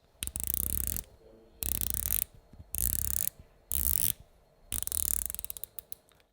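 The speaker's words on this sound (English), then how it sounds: "it has a unidirectional bezel, 120 clicks" A Baltic Aquascaphe dive watch's unidirectional 120-click bezel being turned in several bursts of rapid, close ratcheting clicks, each spin a few tenths of a second to a second long with short quiet gaps between.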